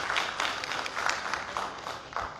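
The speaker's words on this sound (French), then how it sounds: "On applaudit pour l'ensemble des différents services" Audience applause at a press conference on a CEMAC money-transfer service in Chad: steady, moderately loud clapping from a crowd throughout, with no voices over it.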